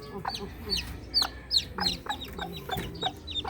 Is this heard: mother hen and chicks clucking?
yes